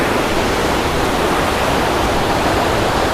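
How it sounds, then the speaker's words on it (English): River water rushing down a steepening course beside the Laurel River Trail in Pisgah, a loud, dense, unbroken roar close by with no voices. "the force of the water coming down the river is keeping up with it proportionately"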